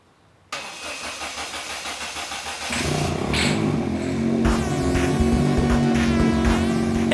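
Daihatsu Mira engine catching on starting fluid after a few seconds of cranking, then running roughly and unevenly at a loud, close idle with uneven revs.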